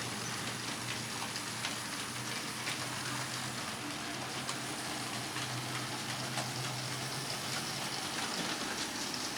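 A model railway train runs around a layout, giving a continuous, even whirring rumble with a faint steady hum and no talk over it.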